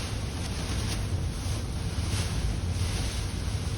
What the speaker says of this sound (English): Boy, that's a lot of wind coming into the shed.